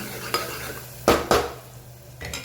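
A spoon stirs a spiced masala tempering of turmeric, coriander-cumin, red chilli powder and salt in a pan, giving a few distinct scraping knocks and clinks against a soft background sizzle, with no talk.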